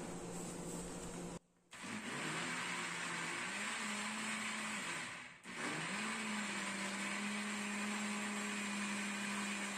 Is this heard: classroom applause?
no